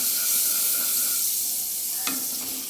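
A potato sandwich fries in butter with a steady, loud sizzle that continues throughout, marked by a brief scrape partway through.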